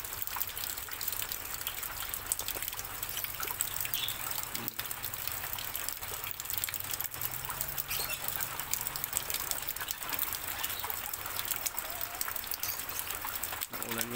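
Steady rain falls throughout a rural yard where native labuyo chickens are kept, a dense continuous patter with trickling water, moderately loud, with occasional faint bird sounds and brief talk.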